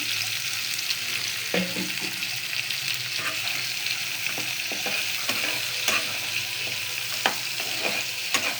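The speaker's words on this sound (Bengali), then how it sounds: "এই মাছ ভাজা তেলগুলো দিয়ে রান্না করব। পেঁয়াজ আর মরিচ দিয়ে দিলাম।" Onions and chillies frying in oil left over from frying fish give a steady, loud sizzle close by, with occasional clinks and scrapes of stirring throughout and no talking.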